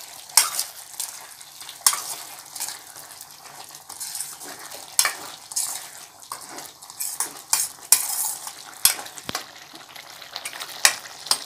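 Coriander being stirred into a cauliflower egg kurma in a pan: a steady, close frying hiss with scraping spoon strokes and occasional sharp metal clinks against the pan, no voices.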